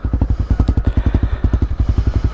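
A 2021 Honda CB300R motorcycle runs close by with a loud, rapid, even exhaust pulse. The engine holds a steady idle-like chug throughout, with no voices over it.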